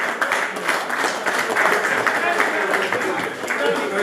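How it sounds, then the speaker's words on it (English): Audience applause fills a large hall at the 2018 CMA Awards, a dense, steady wash of clapping and crowd noise that holds for several seconds. "A round of applause, please."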